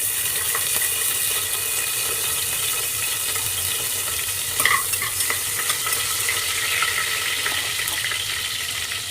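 Whole biryani spices fry in hot oil with a steady, dense sizzle and crackle. The frying runs close and continuous, with a faint clink partway through and no voices.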